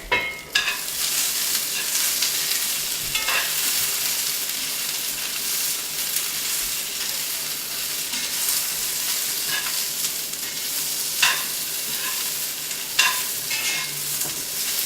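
Food fries in a hot pan with a steady, close hiss. Several scraping stir strokes stand out over the sizzle, and no voices are heard.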